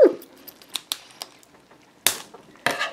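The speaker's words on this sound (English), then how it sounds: "So I got my scissors. I'm gonna chop it." Scissors cut into a squishy red stress ball, giving several sharp snips and crunchy cuts spaced irregularly, close and fairly loud, with short quiet gaps between them and no talking.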